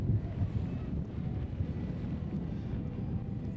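Steady low rumbling wind buffeting the microphone at an outdoor road cycling criterium in Albuquerque, New Mexico, a constant roar with slight surges and no talking.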